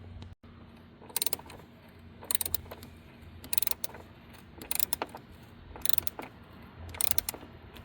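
A ratchet on an extension loosens the 8mm negative battery cable nut on a Ford Edge, giving quick bursts of close, crisp clicking strokes repeated about every second in a quiet engine bay.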